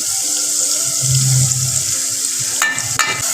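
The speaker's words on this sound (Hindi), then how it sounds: "थोड़ा सा मैंने इसमें पानी शामिल कर दिया है, मसाला लगे ना।" Water poured into masala frying in a pan, a steady watery pouring and sizzling wash through the clip, with a couple of sharper clatters near the end.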